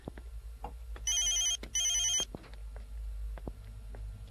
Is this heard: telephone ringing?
yes